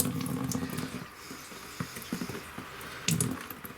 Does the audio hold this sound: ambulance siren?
no